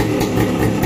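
Kawasaki HD3 motorcycle engine running at a steady idle, a close, continuous low rumble that holds even throughout.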